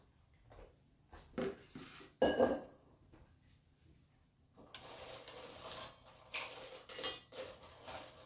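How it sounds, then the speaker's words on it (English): Chocolate being scraped and tipped into a heat-proof bowl for rocky road bars, heard as scattered close clinks and knocks of utensils against the bowl with quiet gaps between them. "I am just transferring my chocolate into a heat-proof bowl"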